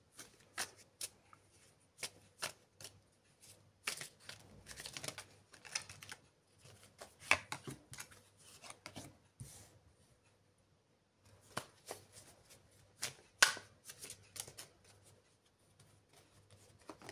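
Tarot cards are shuffled by hand in soft, close, intermittent bursts of riffling and sliding, with brief pauses between, and no talk.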